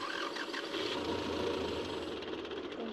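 A tractor engine runs in Farming Simulator 22 with a steady, low, knocking rumble that stays even throughout, quiet and unaccompanied.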